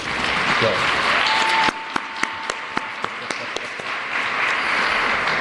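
Dense, steady applause from a large audience for the speakers at a city's State of the City address in Jackson, later thinning into scattered sharp claps over a lingering crowd murmur.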